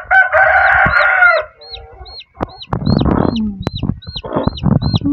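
Hens and a rooster cluck and crow close by around newly hatched chicks, whose high thin peeps repeat steadily through the clip; a loud crow opens, followed by bursts of clucking and a few sharp knocks.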